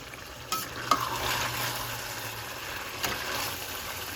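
Dry spices, turmeric, dry red chilies and pepper powder, mixed into Lahori chicken frying in a pan, giving a close, steady sizzle with soft scraping stir strokes and a few light knocks.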